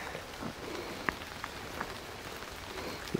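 Steady rain patters on a Beskid mountain hiking trail on the Mały Szlak Beskidzki near Myślenice, a soft continuous hiss with a few sharper drops striking close by and no voices.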